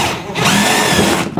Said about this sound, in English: I think I'm just gonna drill those out because I'm gonna replace those clips anyway